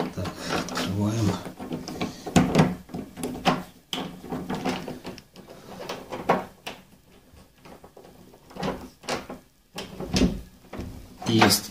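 Door opened in a dark old apartment: a series of wooden creaks, knocks and rattling handle clunks in uneven bursts, close by, with someone talking between them.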